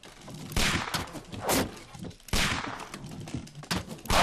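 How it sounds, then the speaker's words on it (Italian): Gunfire in the video game Sherlock Holmes: The Devil's Daughter, a run of sharp broadband shots and bursts spread over a few seconds, loud and close, with no voice over them. "Spari, Watson, spari."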